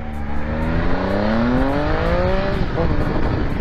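A 2018 Triumph Speed Triple RS motorcycle engine revs upward in a rising whine, loud and close, then settles into a rough steady idle.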